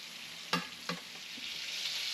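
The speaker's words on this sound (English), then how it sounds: "The mushrooms have been frying for a while. The butter's nice and hot." Mushrooms sizzle softly in hot butter in a pan, with two brief stirring or scraping sounds early on, then a steady gentle frying hiss.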